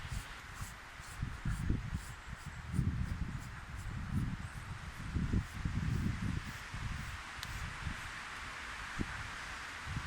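Leaves rustle in gusty wind while snow falls, the hiss swelling and fading in waves alongside low blustery rumble, fairly faint and steady.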